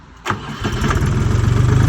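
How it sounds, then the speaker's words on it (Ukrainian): A Lovol 244 tractor's KM385BT diesel engine cranks with a sharp burst and catches, then settles into a loud, close, steady chugging idle with a rapid regular pulse. "провертаю запалення і запускаю двигун"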